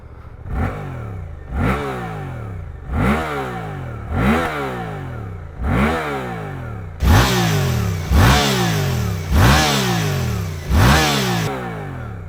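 Suzuki GSX-8S parallel twin motorcycle engine, 2025 model, revving in a series of about eight sharp throttle blips, each rising and falling, close and loud with a steady rhythm, the later ones stronger.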